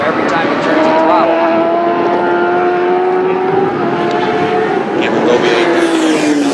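Superbikes race at Sonoma, with engines droning loudly and continuously as the pitch slowly shifts and rises, under a commentator's voice.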